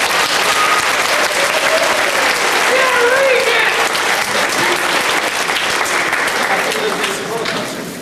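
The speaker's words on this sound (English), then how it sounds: "And let's have a round of applause for Mr. Pete Sinclair." Sustained crowd applause at a BotCon 2001 trivia contest, thick even clapping from a large audience with faint voices mixed in, tapering slightly at the end.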